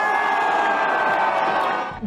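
A large crowd of fans cheers and shouts around YouTuber FOUSEY standing on top of a vehicle at an impromptu street event, a loud, dense, continuous roar of voices that eases off at the end.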